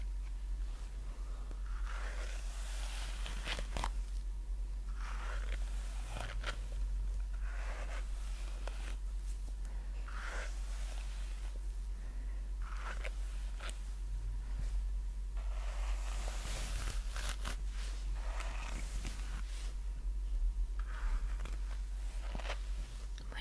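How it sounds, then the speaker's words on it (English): A hairbrush is drawn through hair close to the microphone in soft, repeated swishing strokes, each brisk pass rising and fading against a quiet low hum, with no talking. "that was a hairbrush or brushing hair"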